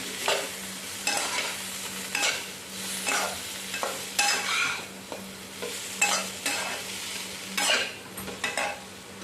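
Boiled amaranth stems are stirred in a pan with salt and spices, giving a rhythmic series of scraping, sizzling strokes about once a second over a low, steady hiss.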